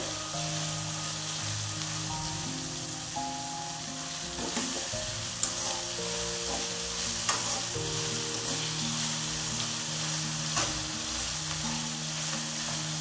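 Vegetable upma mixture fries in a pan with a steady sizzle and repeated stirring scrapes, a few sharper clinks of the utensil standing out, close and continuous with no one speaking.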